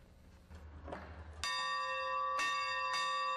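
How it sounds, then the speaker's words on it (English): A locomotive bell rings out clearly in Union Station, Omaha, struck three times with long ringing tones that linger and echo through the large hall, after some faint background rumble. "The locomotive bell that echoes through Union Station"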